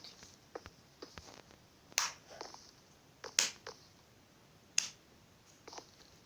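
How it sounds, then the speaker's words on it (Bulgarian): A boy claps his hands in a quiet room, a handful of sharp, separate claps at irregular intervals, a few louder and closer, with soft gaps of near silence between them. "За какво пляскаш?"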